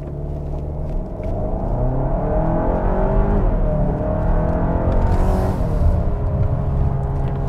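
A 2.5-liter turbocharged SUV with traction control off launches hard from a brake-stand, its engine rumbling loudly and rising in pitch as it accelerates, close and continuous with no voices.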